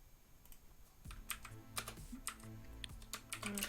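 Typing on a computer keyboard while working in Confluence, a quick run of close, crisp key clicks starting after a second of quiet and continuing in uneven bursts to the end.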